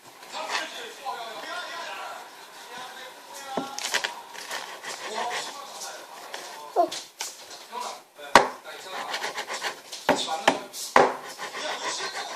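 A knife chopping kimchi on a cutting board for kimchi fried rice in a home kitchen, irregular sharp taps and scraping at close range, with children talking softly between the cuts.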